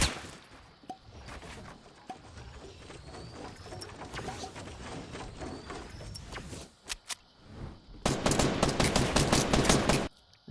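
Automatic gunfire in a Fortnite solo squads match, scattered bursts and single shots, with a dense rapid volley near the end, loud and close, with mechanical clicks between.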